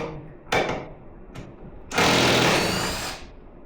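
A power tool spins nuts off a VW MK4 air suspension in short whirring bursts: two quick zips, then a longer, loud sustained whine that runs for over a second before stopping.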